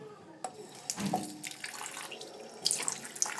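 Tap water runs onto slime in a sink, a close, uneven splashing stream with small clunks and squelches, with brief faint voices in the background.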